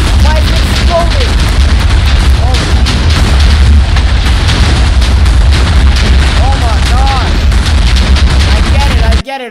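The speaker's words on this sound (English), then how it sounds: "Why is it exploding?" Explosions in a Minecraft game sound as continuous loud booming blasts that overlap into a dense barrage, with excited voices faintly underneath.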